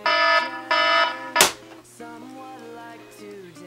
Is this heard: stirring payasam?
no